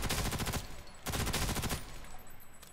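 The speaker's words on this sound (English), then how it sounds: "some of the sound effects are hit or miss on the guns" Video game guns fire in two long automatic bursts, a loud close rattle of rapid shots with a short pause between them and a fainter trailing burst.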